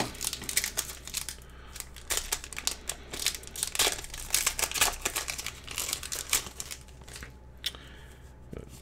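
Pokemon Evolutions booster pack wrappers crinkling and tearing open up close, a steady run of crisp rustles and rips.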